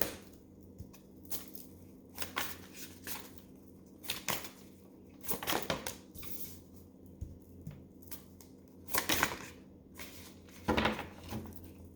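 Tarot cards are shuffled in short, crisp riffles and taps, bursts spaced a second or two apart against a quiet room.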